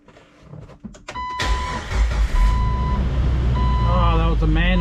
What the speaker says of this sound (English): Oh, that was a manly crank.